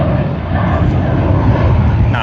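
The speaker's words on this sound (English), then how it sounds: "That is just Rex taxing past." A Rex aircraft taxiing past at Sydney Airport gives off a loud, steady engine drone that holds for the whole stretch without easing off, with a voice talking over it.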